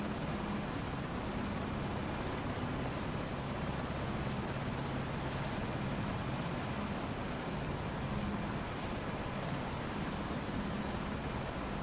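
A Eurocopter H130 helicopter in flight in Microsoft Flight Simulator 2024, heard as a steady, loud broadband rotor and turbine roar that holds unbroken throughout, with no voices over it.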